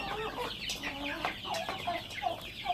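Chickens and turkeys cluck and chatter while eating snacks, giving short overlapping calls at close range over a busy backyard background.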